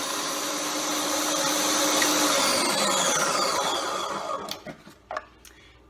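A food processor whirs loudly and steadily as it blends a Mediterranean dip, then winds down and stops, leaving a few sharp clicks and knocks at the end.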